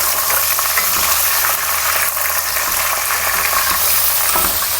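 Meat sizzling hard as it hits hot oil with onions already fried golden, a loud, dense, continuous crackle with stirring rattles from the pan, close up and without talk.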